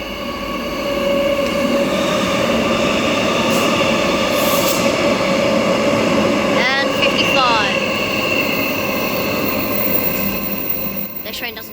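An EMU electric passenger train rushes through Joondalup station in Perth, a loud sustained roar and hum with rail squeal building and holding for several seconds before easing off.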